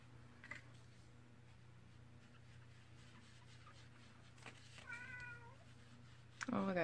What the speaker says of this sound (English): Oh, I got a crying cat.